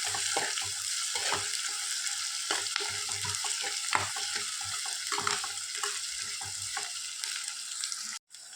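Sliced onions fry in oil for a South Indian onion saaru, a steady close sizzle broken by repeated scraping stirs and spoon knocks against the pan, ending with a brief dropout.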